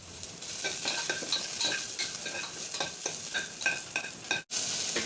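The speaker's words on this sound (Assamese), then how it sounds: "এইখিনি অলপ ভাজি ল'ব লাগে ন" Meat fries in a pressure cooker with a steady hiss and crackle, broken by repeated scraping stirs. A brief sharp knock comes near the end, and no one speaks.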